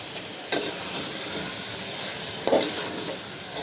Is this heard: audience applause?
no